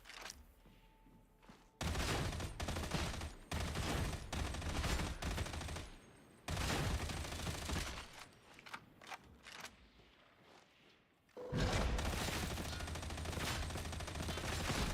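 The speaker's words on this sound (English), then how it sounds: "Yep, auto guns are back, folks." Autogun fire in Warhammer 40k Darktide rattles out in loud, dense sustained bursts, several long volleys broken by short pauses and quieter stretches.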